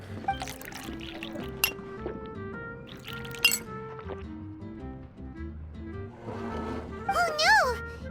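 A glass of juice poured and clinked in the Genshin Impact video game, with bright glassy chinks and a liquid pour set against game music, ending in a rising, warbling tone.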